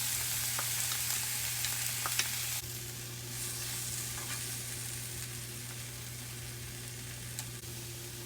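Diced artichoke hearts sizzle in a frying pan alongside spinach, a steady soft hiss with a low hum beneath it and occasional light clicks of stirring, growing quieter partway through.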